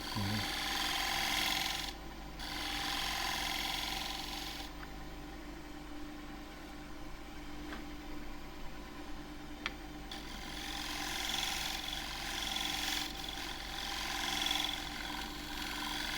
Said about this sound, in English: Now I can use the wing of this gouge just to shear cut here.